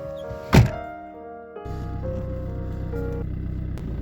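A small car's door shuts with one solid thunk, followed by a low steady rumble of the idling engine inside the car.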